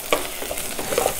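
Crushed shallots and garlic fry in hot oil for a Tamil brinjal kara kuzhambu, making a close, steady sizzle with a few small stirring scrapes.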